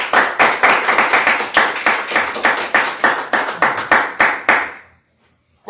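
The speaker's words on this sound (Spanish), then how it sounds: "Dale fuertes palmas a Cristo." A church congregation claps loudly and steadily in a fast, regular rhythm for about five seconds, then stops abruptly into near silence.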